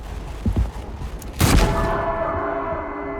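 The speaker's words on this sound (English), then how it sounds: "There's a big flash, loud bang, and you actually have to hold the trigger to shoot." A single loud revolver shot fires in the video game Mouthwashing, a sharp close bang that rings out and decays, preceded by a couple of faint clicks.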